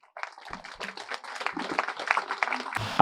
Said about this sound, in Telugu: ఆయన ఒకసారి గట్టి క్లాప్స్ కొడదాం